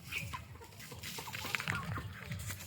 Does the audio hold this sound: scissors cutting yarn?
no